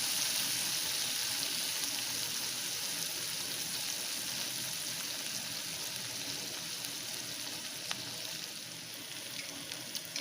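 Lightly salt-boiled vegetables sautéing in a pan, giving a steady, close, even sizzle that runs unbroken throughout with no voices.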